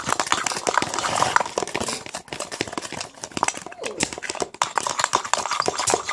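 Homemade slime being mixed by hand, producing wet squelching, clicking and tapping sounds in irregular bursts, close up, with people talking intermittently over it.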